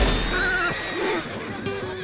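A wounded horse in Red Dead Redemption 2 lets out a strained, wavering whinny, followed by a second shorter neigh, close and loud over game ambience.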